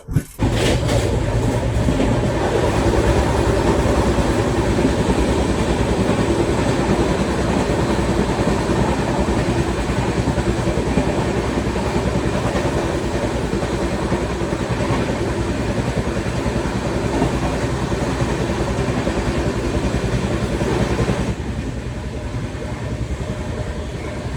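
Mumbai Delhi YUVA AC SF Express running on the track: a loud, continuous rumble and rattle of coaches with rhythmic clatter of wheels, heard close up from on board, with no voices.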